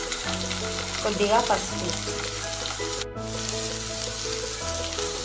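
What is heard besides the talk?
frying tempering seeds and onion in oil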